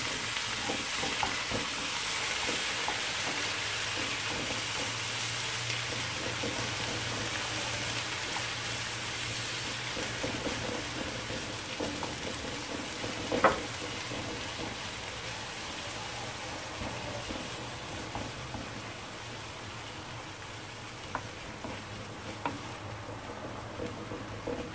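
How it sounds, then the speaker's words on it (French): Semolina flatbread (kessra) stuffing, with a little water added, is stirred in a pan over low heat. It gives a steady, close sizzle and scraping with no voices. "là je mélange et je vais laisser cuire à feu doux quelques minutes"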